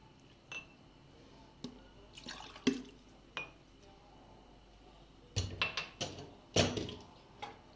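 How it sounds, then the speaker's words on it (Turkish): White vinegar sloshing inside a glass pickle jar as it is shaken, heard as a few short separate splashes and knocks followed by a denser cluster of sloshing bursts near the end, fairly quiet. "Güzelce Şöyle bardağımızı biraz çalkalayalım."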